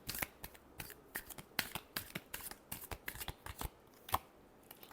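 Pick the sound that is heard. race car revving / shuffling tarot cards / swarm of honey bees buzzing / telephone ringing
shuffling tarot cards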